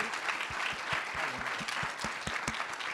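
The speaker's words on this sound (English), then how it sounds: "Let's give a round of applause for," An audience at a political party training event gives a round of applause, a fairly quiet, steady wash of many hands clapping with a few distinct close claps standing out, heard from a modest distance.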